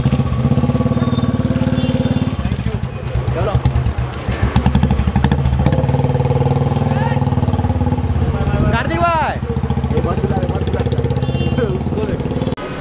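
A motorcycle engine runs steadily at close range, with a low rumbling drone throughout while several people talk and call out over it on a busy street outside an office in Bandra.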